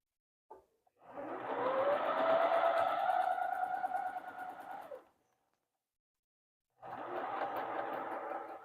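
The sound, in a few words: sewing machine sewing a quilt seam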